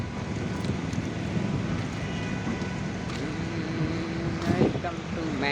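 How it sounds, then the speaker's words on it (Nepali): A windstorm blows outdoors, a steady low rumbling rush of air buffeting the microphone, with brief rattling and passing noises near the end. "हावाहुरी चलिरहेछ।"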